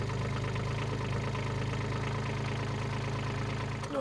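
A farm excavator's diesel engine idles and warms up while its arm is being tested, a steady, loud, close mechanical drone with a rhythmic rumble that cuts off abruptly at the end.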